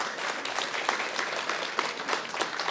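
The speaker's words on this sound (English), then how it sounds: "we'll give another round of applause for Steve and Emmett" An audience at a guide dog school graduation applauds, sustained crowd clapping at moderate volume with a few sharper claps standing out.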